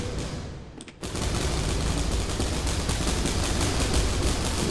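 Dense, sustained automatic gunfire in a Warhammer 40k shooter, a relentless loud barrage that bursts in after a brief lull and keeps hammering without a break.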